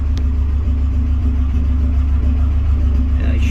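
A turbocharged 400 hp Nissan Hardbody engine idles slightly lean with a loud, steady low rumble and an even throb throughout.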